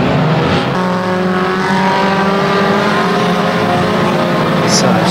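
A Lexus LS430 in an unlimited banger race, its engine roaring steadily amid a loud, dense wash of other racing car engines throughout, with no clear pauses.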